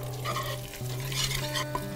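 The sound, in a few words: whisking flour into sautéed carrot, garlic and onion in pot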